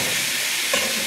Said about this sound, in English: I want to render all the fat out of this bacon. I want this bacon to get nice and crispy.